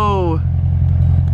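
A BMW M3 with a Valvetronic Designs valved exhaust, valve open, holds a steady low engine drone at close range; a brief rising tonal chirp opens the sound, and no clear rev swell follows.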